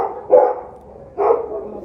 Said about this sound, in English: I'm hearing the dogs flip out